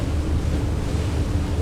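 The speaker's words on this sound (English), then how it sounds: "Ooh, it is rocky. Look at the wake." Choppy wake waves from a river cruise boat on the Seine at night wash and churn steadily under a broad rumble of wind and engine noise, with no voices.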